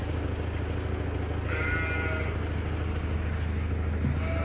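Sheep bleat on a farm while young replacement ewes are fed grain, a short wavering bleat standing out over a constant low rumble of background noise and livestock movement.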